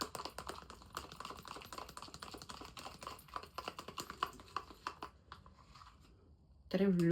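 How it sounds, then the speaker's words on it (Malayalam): Coffee powder face pack stirred in a bowl, rapid rhythmic tapping and clinking of a spoon against the bowl, close up, fading to quiet before a short bit of speech at the end. "ഇത് നന്നായിട്ടൊന്ന് മിക്സ് ചെയ്യാം ഇതാ"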